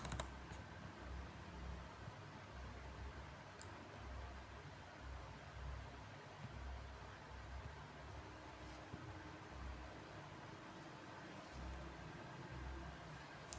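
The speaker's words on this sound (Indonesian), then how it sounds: "lalu saya ketik kalimat narasinya" Quiet typing on a computer keyboard, steady soft key clicks under a constant hiss of background noise.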